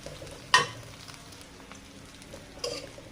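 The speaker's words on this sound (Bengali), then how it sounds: "কাঁচা ঝাল জিরা আর পেঁয়াজ কুচি দিয়ে ভেজে নিচ্ছি" Chopped onion, green chili and cumin fry in a pan with a low, steady sizzle, broken by two short clattering stirs, one near the start and one near the end.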